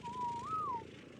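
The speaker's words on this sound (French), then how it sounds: "je siffle tout le monde en passif" A single short whistle command to all tamed creatures in the video game ARK, a faint rising-and-falling tone lasting under a second over low background game sound.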